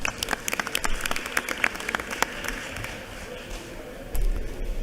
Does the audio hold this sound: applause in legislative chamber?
yes